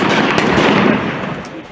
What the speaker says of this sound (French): Des coups de feu à l'école nationale des eaux et forêts de Denderesso, c'est la panique et les balles pleuvent de partout.